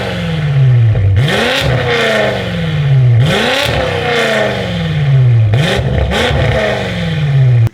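A 2024 BMW M8 Competition fitted with an Akrapovic exhaust revs hard and loud at close range, rising and falling in repeated blips with crackling pops between the revs.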